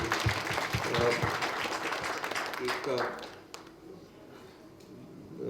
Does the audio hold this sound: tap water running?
no